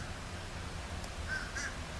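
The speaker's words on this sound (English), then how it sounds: "a lot of birds flying around for some reason" Crows caw outdoors on a December afternoon, two short harsh calls in quick succession at a moderate distance over a steady low background rumble.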